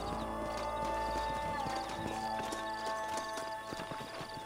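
Horse hooves clip-clop steadily at close range in the video game Red Dead Redemption, with a busy mix of ambient sounds and tones layered underneath.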